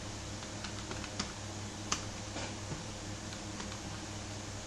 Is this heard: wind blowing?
no